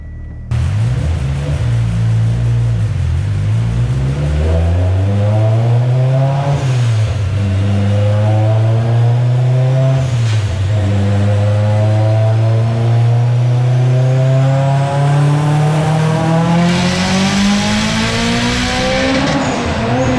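Tuned Mitsubishi Evo X with Darton sleeves, Kelford cams and flex fuel running 32 PSI boost, engine accelerating hard through a long loud pull, pitch climbing steadily with brief dips at gear changes, close and alone.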